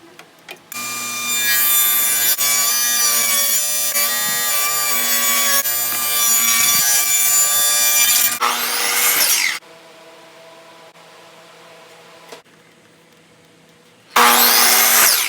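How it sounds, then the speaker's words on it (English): A power saw cuts plywood pieces for a storage cubby in loud, sustained runs with a bright whine. It pauses briefly between cuts, then drops to a quieter idle before a final loud burst. "and now I need to cut the top, cut the back, and cut some thin strips to the exact width of the plywood"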